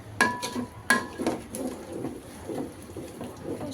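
Biryani spice masala with ginger-garlic paste being stir-fried in a pan, opening with two sharp metallic clanks of a spoon against the pan, then soft scraping and a low sizzle, close up and with no speech.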